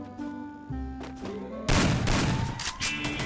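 Gunfire from the video game Free Fire: a dense volley of shots bursts in loudly halfway through, over game music and effects.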